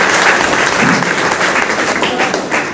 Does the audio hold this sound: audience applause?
yes